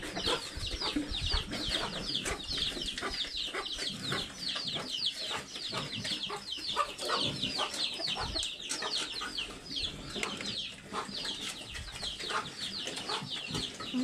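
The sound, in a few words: rooster crowing and clucking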